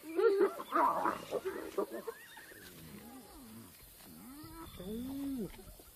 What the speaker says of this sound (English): Hyenas are ripping an impala kill apart.